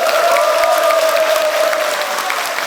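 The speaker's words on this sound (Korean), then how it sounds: "큰 박수 한번" Sustained applause from a crowd at a Korean rural basic income coalition launch ceremony, dense steady clapping lasting throughout with a faint tonal hum beneath.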